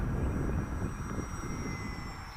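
A Hobbyking Fun-Fighter F4 Wildcat radio-controlled plane on a 3s battery flies overhead, its small electric motor giving a thin sustained whine over outdoor wind rumble, moderately distant and steady.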